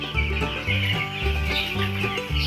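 Week-old broiler chicks on rice husk litter cluck and cheep loudly at close range in a continuous chatter, with a steady background hum and no talk.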